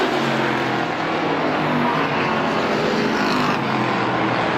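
Race cars on a dirt oval track during a Halloween Howler strictly feature race roar steadily as a dense, continuous engine wash, loud and unbroken, with several cars running together at once.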